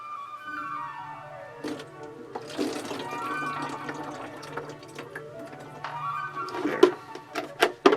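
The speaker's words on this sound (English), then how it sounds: "See if I can carefully pour this in." Liquid is poured carefully into a model grain elevator kitbash project, with a steady trickling stream running through most of the clip, then a few sharp clicks and taps toward the end; no talk over it.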